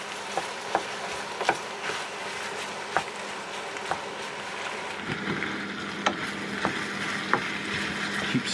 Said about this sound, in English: So we're going to fry this till it's browned off.